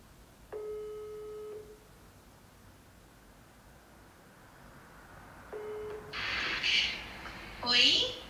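A phone call rings out while waiting for an answer, two tonal ringback bursts several seconds apart over a faint line hiss, followed by brief voices near the end.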